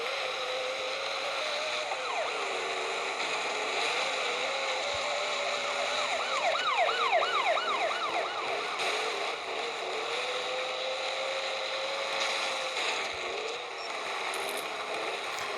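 Police sirens in the Demolition Derby 3 video game wail in repeated rising and falling sweeps over a steady engine drone, moderately loud with no talking.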